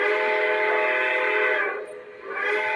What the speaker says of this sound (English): when they were doing like the all aboard signal, it was just, I'm gonna replicate it